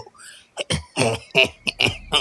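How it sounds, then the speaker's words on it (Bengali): An old man in a Bengali village ghost story gives a few close, rough coughs and throat-clearing bursts, several short harsh blasts in a row with brief gaps. "বুড়োর খুব খুব করে খানিকটা কেশে বলল"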